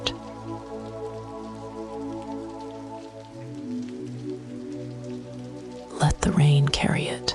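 Soft rain on glass patters beneath a sustained, layered ambient drone, with a quiet whispering voice rising near the end.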